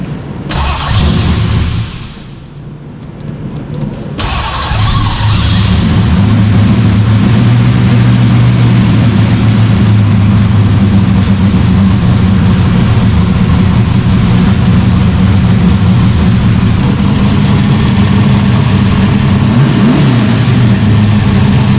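A 427 cubic-inch nitrous small-block Ford with Dominator carburetors cranks briefly, catches and settles into a loud, close, rough, lumpy idle that carries on steadily with no talking.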